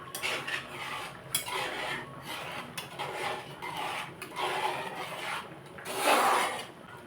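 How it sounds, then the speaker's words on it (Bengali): Spoon scraping and clinking against a pan while chicken malai kofta is stirred with ghee, a steady close rhythm of rubbing strokes with a louder scrape near the end. "তো এবার ভালো করে নাড়িয়ে নেব।"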